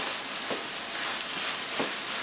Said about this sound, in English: for the video I'm doing it in a frying pan just so you can see.